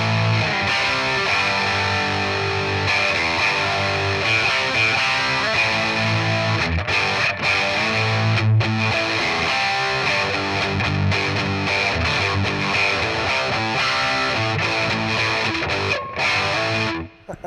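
A Squier Jazzmaster 40th Anniversary electric guitar plays through heavy high-gain distortion, dense sustained chords and riffs ringing loud and continuous for most of the passage before cutting off abruptly at the end.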